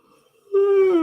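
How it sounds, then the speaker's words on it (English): A man gives one loud, drawn-out vocal yawn, rising abruptly after a near-silent start and sustaining a tonal, moaning sound close to the microphone. "compulsive yawn"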